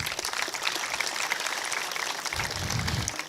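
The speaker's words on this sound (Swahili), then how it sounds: "Simpigie mwanariadha makofi" Applause from a school crowd for a Kenyan sprinter, a steady broadband clatter of many hands clapping throughout, with a low rumble swelling near the end.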